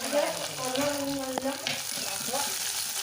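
Onions fry in hot oil with curry leaves and dried red chillies tossed in, giving a steady close crackling sizzle with a brief sharp clatter partway through.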